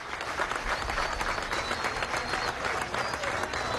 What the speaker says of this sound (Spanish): Un aplauso a los músicos